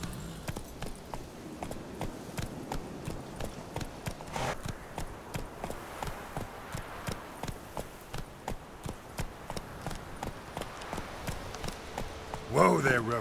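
Horse hooves gallop in The Witcher 3, a steady, rhythmic clip-clop of quick, evenly spaced beats that stays close and fairly loud throughout, swelling slightly at the end.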